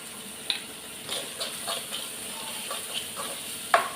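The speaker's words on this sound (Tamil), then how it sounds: "சால்ட் வதக்கி விட்டு விடலாம்." Vegetables sautéing with salt in a pan for a South Indian masala, a low steady sizzle broken by scattered stirring clicks and scrapes, close by, with no voices.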